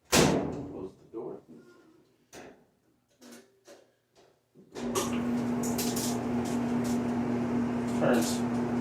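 Electric clothes dryer, just repaired after squeaking, starts up. A few clunks and brief talk come first, then the drum turns with a steady, even motor hum and no squeal.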